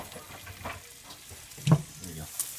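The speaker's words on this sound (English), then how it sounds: "what we like to do to it is we like to fry it" Farmer's cheese frying in coconut oil, giving a low, close sizzle with a few stirring scrapes and one sharper clatter partway through.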